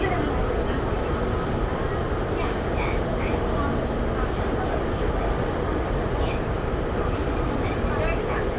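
A Hong Kong metro train runs from Austin station toward Nam Cheong, heard from inside the carriage. A steady, dense rumble of the moving train continues throughout, with people speaking over it.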